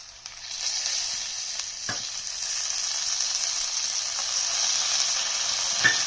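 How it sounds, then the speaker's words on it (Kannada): Mint and coriander leaves frying over medium heat for goat leg soup, a steady bright sizzle throughout, broken by a couple of sharp clicks of a utensil against the pan. "ಇಷ್ಟನ್ನು ಇವಾಗ ಹುರ್ಕೊತೀನಿ. ಮೀಡಿಯಮ್ ಉರಿನಲ್ಲಿ ಹುರಿಬೇಕು."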